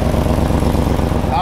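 An engine runs steadily with a rough, sputtering exhaust pulse from a leaking exhaust, loud and close, continuing throughout.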